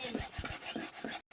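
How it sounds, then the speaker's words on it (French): Macabo (cocoyam) is grated by hand in about five quick, rhythmic rasping strokes, close and fairly quiet, before a brief cut to silence. "on va commencer à râper le macabo comme vous voyez"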